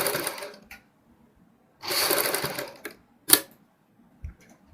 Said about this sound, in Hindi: सेम इसी प्रकार हम दूसरी साइड सिलाई लगाएंगे बराबर गैप रखते हुए